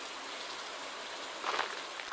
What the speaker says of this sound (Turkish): Yağmur da bastırdı iyice.